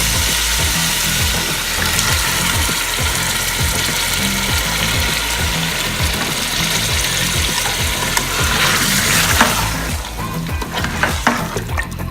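Mutton searing in a pressure cooker for Karachi biryani: a steady loud sizzle with a regular low rhythmic thumping underneath throughout, and brief louder scraping near the end.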